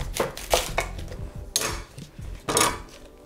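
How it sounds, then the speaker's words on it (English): A kitchen knife cuts the end off a cauliflower on a board, three or four sharp thuds and crunches coming close and loud, spaced roughly a second apart. "Now let's chop the cauliflower. First, I'm going to chop off the end."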